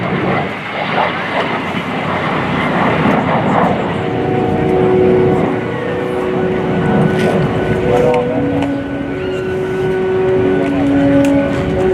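A de Havilland Vampire jet performs at the 2017 NAS Oceana airshow, its loud, sustained roar carrying steady whining tones that shift in pitch as it passes, with an announcer's voice running over the noise.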